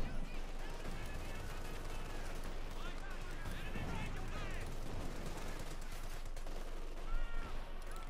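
Gunfire and covering fire from the WWII strategy game Company of Heroes 2, with rapid machine-gun bursts and scattered shots in a busy, continuous battle soundscape, and a voice talking over the action.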